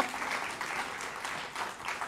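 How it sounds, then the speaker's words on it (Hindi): A live audience at a televised political interview event applauds briefly, a steady, fairly soft burst of many hands clapping with slight swells. "तो एक बार फिर जोरदार तालियों से अभिनंदन करिए अनुराग ठाकुर जी का"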